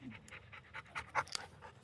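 A dog pants quickly and softly after fetching a stick, a rhythmic run of short breathy huffs, faint and close, with no talk.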